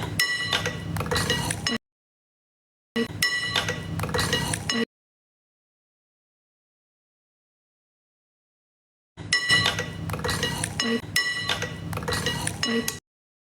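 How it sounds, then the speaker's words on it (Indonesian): Ice cubes clinking and rattling against a glass as they drop into a sweet drink, in several separate bursts of bright, jingly clatter divided by silent gaps. "Aku masukin es batu biar agak ini ya, ngencerin manisnya."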